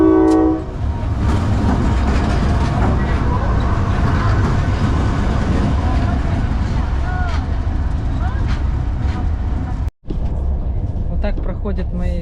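Loud, steady rumble and clatter of passenger train 317 Bishkek–Samara heard from inside a third-class open-plan sleeper carriage, with a horn blaring briefly at the start and voices underneath.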